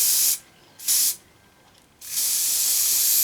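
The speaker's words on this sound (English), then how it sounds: "we'll spray, we'll drop some more flocking on there" Spray bottle misting a model tree ready for flocking, three loud close hissing bursts, two short ones then a longer sustained spray, with quiet gaps between.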